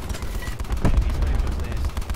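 Call of Duty: Black Ops 4 gunfire crackles in close bursts, with a sharp shot near the middle over a busy rumbling battle bed, while game voices call out in the background.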